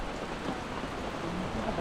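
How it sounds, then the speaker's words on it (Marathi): Heavy monsoon rain at a roadside tea stop on a fort trek near Mumbai, a dense steady roar of downpour that fills the whole clip evenly, close and loud with no voices. "खूप बेकार पाऊस आला इथे, खूप जोरात पाऊस येतोय."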